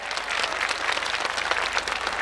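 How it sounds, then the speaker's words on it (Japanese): A large outdoor crowd at a summer fireworks display claps in dense, steady applause that holds evenly for a couple of seconds, with no voices standing out. "大きな拍手を、イエーイ。"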